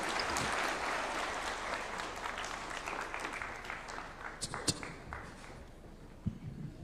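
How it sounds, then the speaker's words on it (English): Applause from a rally crowd in Siaya for the President fills the opening seconds at moderate level, then thins into scattered claps and taps as it fades. "Another round of applause to His Excellency."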